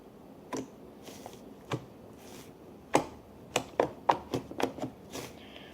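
Glittery homemade slime being poked by hand, giving a string of sharp little clicks and squelchy pops, sparse at first and then coming quickly near the end, close up with no talking.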